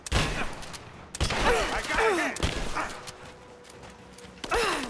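Shotgun fire in the Rise of the Tomb Raider video game, heavy blasts landing about every second or so with chaotic combat noise and whooshing effects between them.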